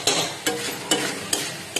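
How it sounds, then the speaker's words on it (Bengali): Onion and ginger-garlic paste frying in oil for mutton curry, stirred in four evenly spaced scrapes over a steady, close sizzle. "এখন যখন মতো তেলটা না ছাড়ে তখন মতো আমরা নাড়াচাড়া করতে হবে।"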